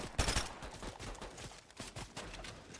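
Fortnite gunfire in a rapid cluster of shots, loudest at the start, then scattered quieter bursts trailing off.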